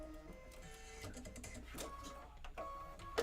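An embroidery machine stitches quietly in a steady mechanical patter with faint clicks and rattles, low in level, with possible soft background voices.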